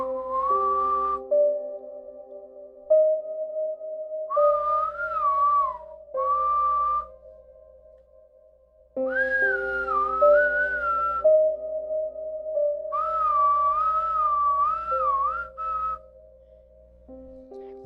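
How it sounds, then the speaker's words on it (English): Eerie melodic whistling rises and falls in drawn-out phrases, broken by short pauses, over a steady low sustained tone, close and clear throughout. "When the whistling started,"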